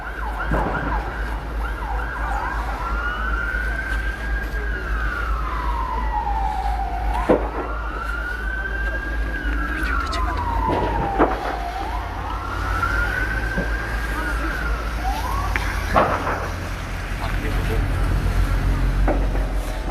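Wailing fire engine sirens rise and fall in long repeated sweeps over a constant low engine rumble as the engines arrive at a burning sponge factory, loud and nearby, with faint background voices.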